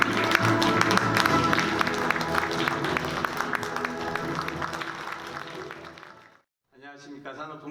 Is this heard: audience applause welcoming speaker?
yes